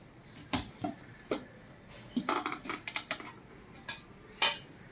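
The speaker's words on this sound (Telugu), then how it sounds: "మిక్స్ చేస్తున్నాను" Curry leaf chili powder being mixed in a pan, with a series of sharp scraping and clinking strikes of a utensil against metal, scattered and irregular, then a louder clank near the end.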